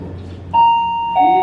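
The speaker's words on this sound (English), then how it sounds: "Warning bell." Electronic warning bell at a college ex-tempore speech competition: two loud, steady beeping tones, the second slightly lower, sounding over a murmur of background voices in a hall.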